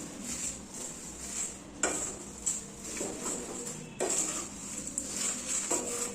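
A spoon repeatedly scrapes and clinks against a pan as a curry leaf rice spice mix is stirred on the stove, which is switched off, giving irregular close metallic knocks and rustling.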